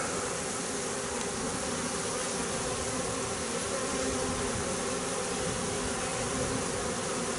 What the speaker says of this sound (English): That's a pretty small swarm there.